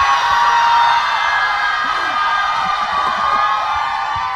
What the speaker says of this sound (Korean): 한번 환호성 질러보면서 시작해볼까요?